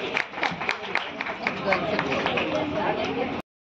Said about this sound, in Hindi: फास्ट राउंड है, जोरदार तालियों के साथ